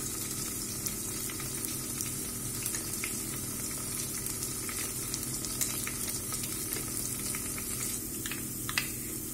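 Fried onion and a flour mixture thinned with bean water sizzle in a continuous, even hiss with faint stirring clicks throughout, close and moderately quiet, no talking.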